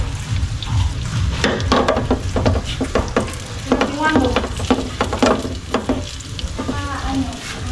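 Plenty of butter melts and sizzles in a pan with a loud, close crackle and irregular spattering pops, steady throughout, with no talking.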